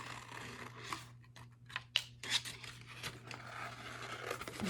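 Scissors snipping through paper while cutting out paper dolls, a run of short close scrapes and crisp cuts with brief pauses between them.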